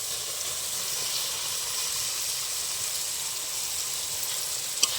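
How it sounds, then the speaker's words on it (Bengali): Egg biryani with fried eggs and potatoes sizzles in a pot, a steady, even hiss of frying that runs unbroken throughout, with no voices. "এবার ভেজে রাখা ডিম আর আলু দিয়ে দেবো।"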